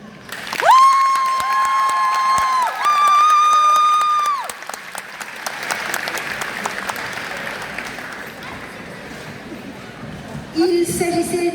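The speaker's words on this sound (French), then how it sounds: "on va l'applaudir encore une fois, s'il vous plaît" An audience at a cosplay contest at TGS Pau applauds a contestant dressed as Star Guardian Soraka from League of Legends. A swell of clapping rises under music and an announcer's amplified voice.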